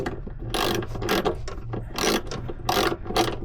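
A stainless steel screw being driven into an aluminium boat deck, heard as a steady ratcheting, grinding clatter in rhythmic bursts, close and loud with no talk.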